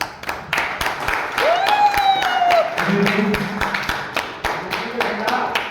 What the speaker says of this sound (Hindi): ये तालियां रुकना नहीं चाहिए।